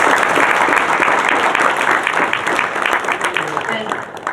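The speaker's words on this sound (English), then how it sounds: "let's give them a nice round of applause." An audience at a research summit bursts into loud, sustained applause, dense clapping filling the room and slowly thinning toward the end.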